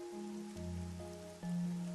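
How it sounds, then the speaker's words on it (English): Rain falling steadily in a gloomy detective game town, a soft continuous patter beneath a low droning musical tone, quiet and without speech. "The rain, it never stops."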